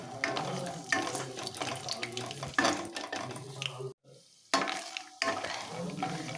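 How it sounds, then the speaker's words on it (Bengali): Peanuts sizzle in oil over a medium gas flame while a spatula scrapes and stirs the pan close up, with two brief silent gaps. "এখন নেড়ে চেড়ে বাদামটাকে ভেজে নিচ্ছি"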